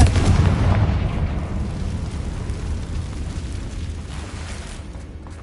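A Confringo fire-spell explosion in the video game Hogwarts Legacy bursts with a heavy, close boom, then rolls into a dense rumbling roar that slowly fades over several seconds.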